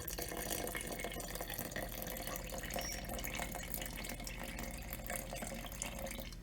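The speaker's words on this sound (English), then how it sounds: "So now I'm going to add the extra water." Water is poured from a tap or jug into a sourdough starter during feeding, a steady close splashing pour that runs continuously throughout without speech.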